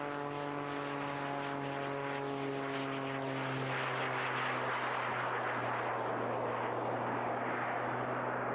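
Aircraft engines drone steadily at an airshow over Eastbourne as an aerobatic display plane's small jet engines kick in, a continuous, fairly distant roar that swells without pause.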